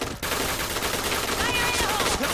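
Gunfire in the video game Point Blank, dense continuous shooting that fills the whole stretch, with a whistling tone briefly rising over it.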